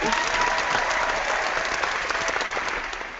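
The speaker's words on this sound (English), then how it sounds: "Wait, here's applause." Applause breaks out from a small group, a dense and fairly close burst of clapping that holds steady for a few seconds before tapering slightly.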